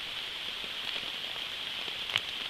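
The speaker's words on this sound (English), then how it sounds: "I don't know about standing out in the rain though." Rain falls steadily at a forest campsite in Allegheny Forest, making an even, hissing patter with scattered individual drop taps and one slightly louder knock near the end.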